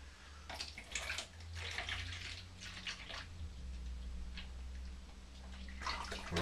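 Pineapple juice poured into a mead batch over apple juice and raisins, a close splashing, gurgling pour in several bursts, fairly loud and continuous.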